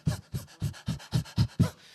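A person imitates a dog panting, seven rhythmic, breathy huffs in quick, even succession, close and clear with no other sound.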